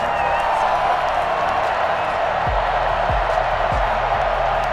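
A large crowd roars and cheers in a steady wash of applause in a Madden NFL 21 game, Colts vs Cowboys, with a few low thumping hits partway through.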